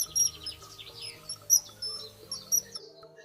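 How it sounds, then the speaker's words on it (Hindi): A kingfisher gives a few short, high chirping calls in quick succession, fairly faint and clear, with a low steady hum beneath. "रामचिरैया को इंग्लिश में बोलते हैं किंगफिशर।"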